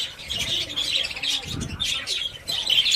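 A breeding colony of budgerigars chirps and twitters continuously, with many overlapping bright, rapid tweets and squawks close by and no talking.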